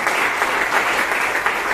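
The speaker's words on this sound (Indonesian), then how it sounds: "Beri tepuk tangan bagi Tuhan" Steady, dense applause from a church congregation, loud and continuous throughout with no voices rising above it.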